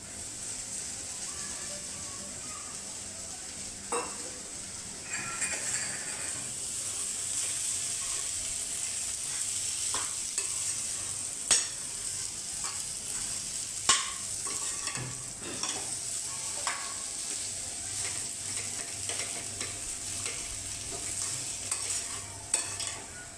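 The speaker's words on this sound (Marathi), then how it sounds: "हे सगळं असं परतवून घ्यायचं। हा बटाटा घालूया" Potato being stir-fried for a Pune-style vada pav filling, a steady close sizzle of frying with repeated scraping and clicking stir strokes throughout, no talking.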